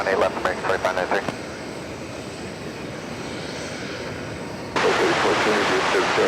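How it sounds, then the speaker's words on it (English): An American Airlines jet taking off from runway 18 left at DFW Airport, a broad steady engine roar that dips briefly and then swells louder near the end, with a voice talking over the opening moments. "Clip takeoff, runway 18 left, American 2593."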